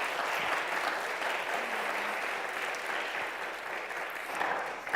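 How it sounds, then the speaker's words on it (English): An audience at an author talk gives Laura a round of applause, steady dense clapping that fills the room from start to finish without a break. "Can we just give her a round of applause to start it off?"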